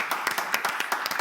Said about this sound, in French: nous allons donc applaudir et accueillir Titanic